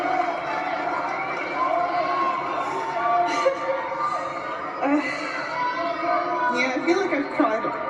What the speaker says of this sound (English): The entire crowd clapping and cheering, even though she just lost